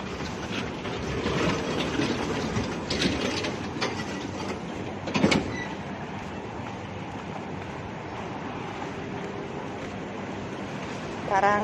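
Steady low rumble of a train in Hong Kong rolling along rails with rattling and clanking, a sharp clatter midway, and faint voices buried in the noise.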